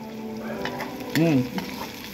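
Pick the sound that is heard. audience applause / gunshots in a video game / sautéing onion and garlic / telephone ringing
sautéing onion and garlic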